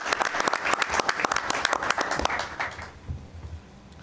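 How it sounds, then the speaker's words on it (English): Audience applause at a high school board of education meeting, a dense run of steady clapping for about three seconds that then tapers off, with faint murmuring as it dies away. "Another round of applause, please."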